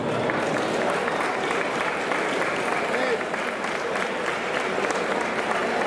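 A crowd at a building depot celebration applauds strongly for the minister, a thick, continuous wash of clapping held at a steady high level, with some voices mixed in beneath the applause.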